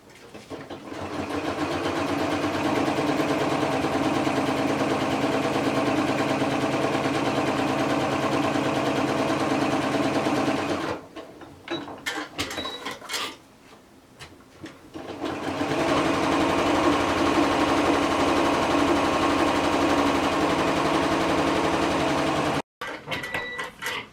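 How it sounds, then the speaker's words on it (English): Sewing machine top stitching a fabric bag, a loud close continuous whirring drone that runs for about ten seconds, pauses briefly amid light handling noise, then resumes steadily. "then we're just going to do a top stitch along both sides so that it makes it nice and flat"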